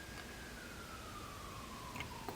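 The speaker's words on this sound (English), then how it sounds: "I hear the police car passing through." A police car siren passes at a distance, a faint, slowly falling wail over a steady background hum.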